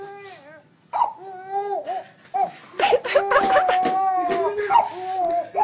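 A voice mimics a crying child with wailing sobs that rise and fall in several uneven bursts, some sounding almost like laughter, close and fairly loud.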